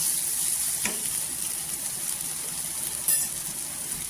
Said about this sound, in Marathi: हे तेलावर आहे ना परतून घ्यायचे